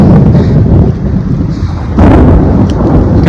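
Thunder rumbling during a rainstorm, a loud low roar that swells, eases briefly and surges again near the middle, with wind and rain noise behind it and no talking.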